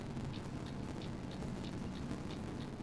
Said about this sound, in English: even the handbrake sound's going now